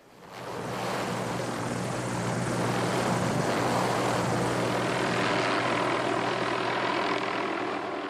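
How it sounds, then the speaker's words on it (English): A helicopter flies over mountains, its rotor and engine a loud continuous roar that swells in within the first second and holds steady throughout. "the best way to get into these mountains and look around is with a helicopter"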